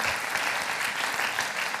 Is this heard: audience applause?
yes